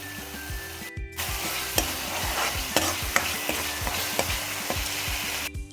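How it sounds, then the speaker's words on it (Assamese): Spice paste of ginger, garlic and chili frying in a wok, a steady close sizzle broken by regular scraping strokes of a spatula stirring the paste, with no talk. "এতিয়া পেষ্টখিনি প্ৰায় 5 মিনিটমান সময় নিসিজালৈকে ভাজি ল'ম।"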